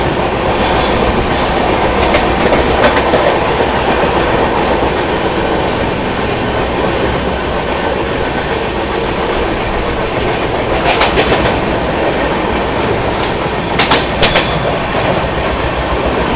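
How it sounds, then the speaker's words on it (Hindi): An express train, the 12392 Delhi–Rajgir Shramjeevi Express, runs at speed near Hardoi while overtaking the Kashi Vishwanath Express. A loud continuous rumble with clickety-clack wheel beats fills the whole stretch. "स्किप कर रहे हैं हरदोई और ओवरटेक करने जा रहे हैं न्यू दिल्ली बनारस काशी विश्वनाथ एक्सप्रेस को।"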